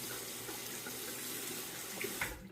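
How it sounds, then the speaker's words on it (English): Tap water runs steadily into a sink to wet an adjustable safety razor before shaving, a continuous close splash that fills the whole moment and cuts off abruptly at the end. "So, I'm gonna wet the razor."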